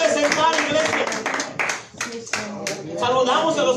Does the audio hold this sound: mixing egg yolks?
no